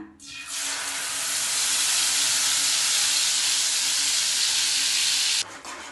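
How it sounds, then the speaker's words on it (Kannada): Ground masala paste hits hot oil in a pan and bursts into a loud, continuous sizzle that swells after a quiet start, holds steady and cuts off sharply near the end. "ಎಣ್ಣೆನ ಸ್ವಲ್ಪ ಬಿಸಿಯಾಗಿದೆ ಇವಾಗ ನಾವು ರುಬ್ಬಿಟ್ಟಿರುವ ಮಸಾಲೆಯನ್ನು ಹಾಕೊಳ್ಳೋಣ"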